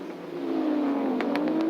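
Group A touring cars racing at Calder Park in 1985: a loud, sustained engine drone rising as a car accelerates past, with a few sharp clicks near the end and no voices.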